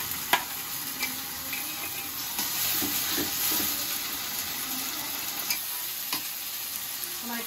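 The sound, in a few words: ginger garlic paste frying and being stirred in pan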